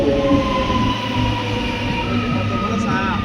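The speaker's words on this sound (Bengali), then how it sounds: "বাপের জন্ম আমরা ট্রেন দেখি নাই" A train rolls past close by, a steady loud rumble with rail noise and a faint tonal whine holding throughout the short stretch.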